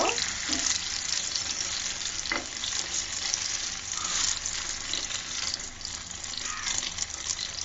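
An egg fries in a pan for a tomato egg bhuna, giving a steady, loud sizzle with occasional scraping and stirring clicks from a spatula throughout.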